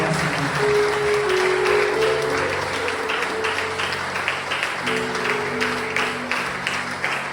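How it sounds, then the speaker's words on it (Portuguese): A congregation applauds steadily for several seconds, with sustained music tones and some voices mixed beneath the clapping. "Vamos aplaudir o nosso Deus."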